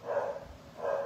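A dog barks twice, a short burst at the start and another near the end, moderately close in a quiet home.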